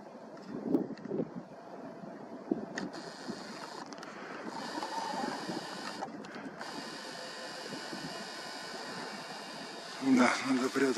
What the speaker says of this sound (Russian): Ветер сильный, еще утренний поднимается.